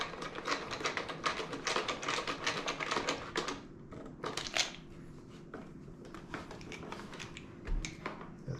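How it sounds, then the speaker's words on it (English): Screws are driven back in on a noisy Nespresso Vertuoline coffee machine during a repair, a close run of quick ticking, clicking screwdriver turns that thins to sparser taps. "So now we just have to do up our screws."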